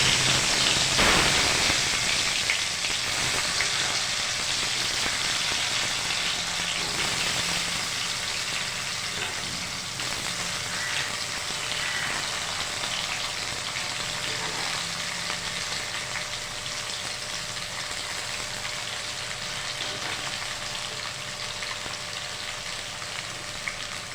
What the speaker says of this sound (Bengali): তেলটা ভালো করে গরম হয়ে গেছে, আমরা এবার এর মধ্যে করলাগুলো ভেজে নেব একটু লাল করে।